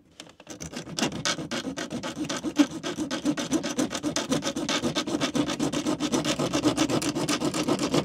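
A blade cuts into the plastic dashboard of a Fiat Ducato motorhome in quick back-and-forth strokes, a close, rhythmic rasping and scraping that speeds up slightly and keeps going throughout.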